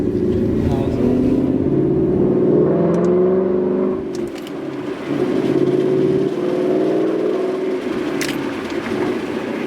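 A manual Ford Mustang GT engine revs and drones under a quiet voice, automatic rev matching blipping on downshifts, the pitch rising and falling as gears shift, with a short dip midway.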